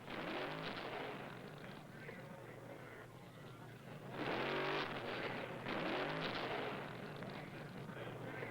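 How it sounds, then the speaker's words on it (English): Funny car drag racing from the 1960s, with quiet, recurring bursts of engine roar rising and fading over a steady background rumble. "Leong repeat his thrilling funny car Eliminator win at last year's Winter Nationals."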